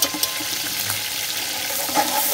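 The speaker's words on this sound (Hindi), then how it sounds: "प्याज कच्ची पक्की हो गई है, अब इसमें हम 3 चम्मच लहसुन अदरक का पेस्ट डालेंगे।" Garlic ginger paste goes into onions frying in a pan, bringing a soft sizzle with light scraping and stirring clatter, close and without talk.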